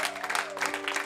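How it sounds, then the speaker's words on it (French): Audience applause at an evening faith and healing gathering, dense steady clapping from a crowd throughout, close and full, with a sustained tone beneath the claps. "Est-ce qu'on peut les applaudir"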